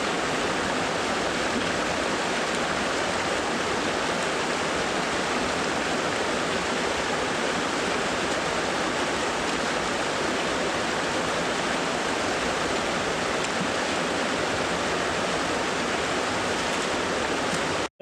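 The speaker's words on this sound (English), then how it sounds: "We made it to the river." A Sierra Nevada river in Kings Canyon rushes with a steady, loud, broadband roar, continuous and unbroken, with no voices over it.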